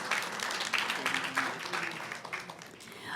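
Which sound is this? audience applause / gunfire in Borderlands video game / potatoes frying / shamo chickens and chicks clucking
audience applause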